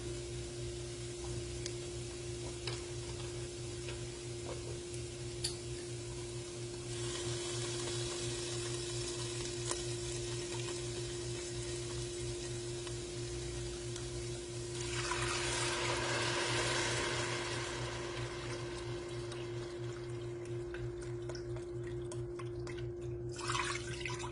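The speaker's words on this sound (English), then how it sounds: "I'm going to add in 3 cups of vegetable broth" Vegetable broth pours into a soup pot for a creamy Tuscan white bean and kale soup, a soft liquid rush swelling for a couple of seconds midway over a constant low hum and faint kitchen noise.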